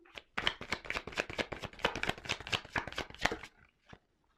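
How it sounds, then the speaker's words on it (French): Tarot cards are shuffled in a rapid run of crisp, close riffling flicks lasting about three seconds, followed by a single soft card snap as one is drawn. "je prends encore une carte"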